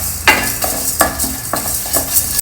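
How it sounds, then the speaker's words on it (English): Methi seeds, black pepper, coriander seeds, white sesame and mustard dry roasting in a pan, a light dry rustle broken by about five distinct spoon scrapes and taps against the metal, close and unaccompanied by speech. "We'll dry roast all of them together."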